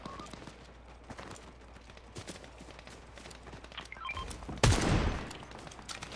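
Fortnite shooting comes as rapid bursts of gunfire, fairly faint and scattered at first, then builds to a louder, sharper volley near the end.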